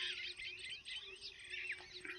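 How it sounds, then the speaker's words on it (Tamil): Sparrows perched on a village power line chirp in a busy, overlapping chatter of quick high tweets, steady and moderately close, with a faint hum beneath and no voices. "குருவிகள் பாருங்கள், எவ்வளோ குருவிகள் உட்காந்துருக்கு."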